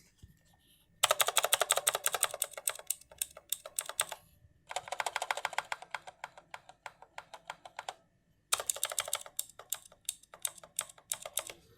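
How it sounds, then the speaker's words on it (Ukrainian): Rapid clicky typing on a Vinga mechanical keyboard with blue switches, up close, in three bursts separated by brief pauses, each tap sharp and crisp. "чутно характерне клацання синіх свічів"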